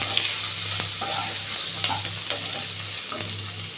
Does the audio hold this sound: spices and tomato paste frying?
yes